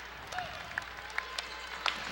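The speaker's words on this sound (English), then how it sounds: "Awesome crowd. You're going to hear them now." A basketball arena crowd at an NBL Canada game in Halifax's Scotiabank Centre claps in a steady, moderately loud wash of applause with a few sharper claps standing out near the mic.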